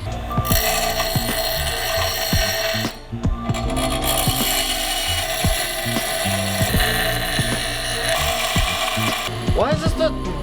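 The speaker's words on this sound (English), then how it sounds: "Why is this the world's weakest bench grinder?" A weak bench grinder runs with a steady mechanical whir and a ratcheting, clicking rattle, loud and close, continuing throughout with a brief dip partway, used during restoration work on a 2005 Subaru STI.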